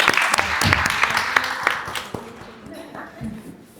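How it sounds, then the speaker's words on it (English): An audience applauds at an indoor workshop forum, a brief burst of scattered clapping that fades over a few seconds, with a voice speaking over it. "Let's give a round of applause for Mr."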